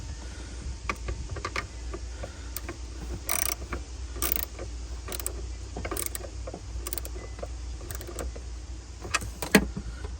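A bolt on a ground wire of a 2019 Dodge Charger SXT is tightened with a ratchet, giving repeated sharp clicks in irregular bursts over a low steady hum, close and fairly loud.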